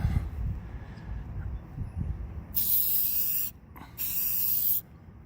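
Hyperdip coating sprayed from an aerosol can onto wheel rims in two sustained hissing bursts, each lasting about a second, with a short pause between them and quieter handling noise before.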